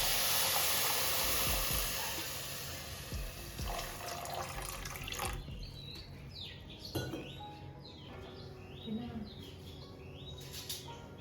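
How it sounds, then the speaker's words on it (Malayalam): Water is poured from a tap onto sugar for fruit tanghulu syrup, a close hissing splash for a couple of seconds that gives way to quieter clinks and small movements, with birds chirping faintly in the background. "പിന്നെ നമുക്ക് ഉടനെ തന്നെ വാട്ടറും കൂടെ ഒഴിച്ചു കൊടുക്കാം."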